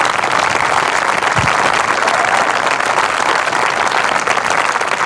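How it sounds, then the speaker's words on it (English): Crowd at a school band concert gives a loud round of applause for the 7th grade band, dense, even clapping that fills the whole stretch without pause or talk. "One more round of applause for that."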